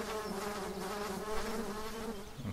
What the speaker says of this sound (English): Oh, I hear bees.